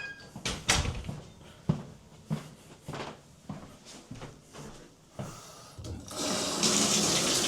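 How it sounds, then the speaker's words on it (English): An upstairs faucet in a house on a well pump turns on and water runs steadily into a sink, preceded by several knocks and clunks like footsteps or doors nearby. "So I'm just going to go upstairs here and turn a faucet on."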